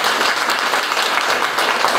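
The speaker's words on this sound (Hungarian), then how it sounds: "Hatalmas tapsolás!" An audience at a live music performance in Belegen breaks into a dense, steady round of applause that fills the whole stretch.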